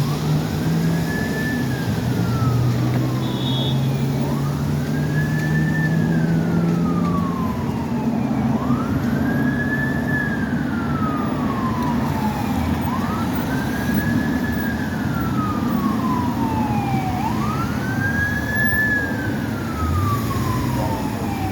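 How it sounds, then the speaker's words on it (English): Fire truck sirens wailing on a city street along Columbus Ave, five slow rising-and-falling sweeps repeating over a constant heavy traffic rumble, moderately distant. "You hear fire trucks down there."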